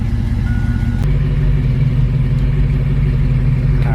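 An LS-swapped Foxbody Mustang engine idles steadily on a dyno, held near 2,000 RPM, with a deep continuous drone throughout and brief clanks near the start and end.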